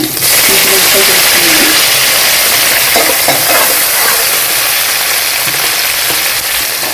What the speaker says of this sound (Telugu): అలాగే అది కొంచెం మనం గోల్డెన్ బ్రౌన్గా ఫ్రై చేసుకుంటాం